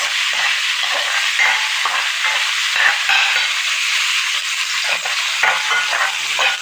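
Main ingredients hit a pan with garlic and browned ginger, sizzling loudly and continuously up close while being stirred, with occasional scraping.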